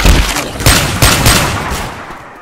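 Rapid gunfire in the zombie shooter Left 4 Dead 2: loud, close bursts of overlapping shots in quick succession, thick and continuous for about two seconds before tapering off, with no talk.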